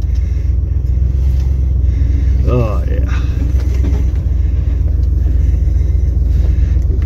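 A rescued Lincoln Continental with no brakes pulls a trailer and rumbles loudly as it rolls, giving a deep, constant engine drone throughout, with a brief spoken exclamation near the middle.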